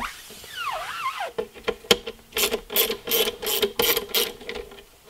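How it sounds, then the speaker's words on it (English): A ratchet wrench with a ten millimeter deep socket turning bolts out while retrofitting headlights on a GMC Denali, a quick run of sharp clicking strokes after a brief whirring sound, close and alone. "Ten millimeter deep socket."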